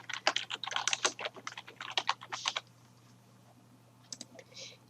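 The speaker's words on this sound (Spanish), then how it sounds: "hacemos un clic y comenzamos a escribir" Quick bursts of typing on a computer keyboard while entering text in CorelDraw, a dense run of clicking keys for about two and a half seconds, then quiet with a few last taps near the end.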